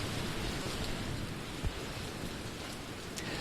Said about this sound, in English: what we're dealing here with right now is some very heavy rain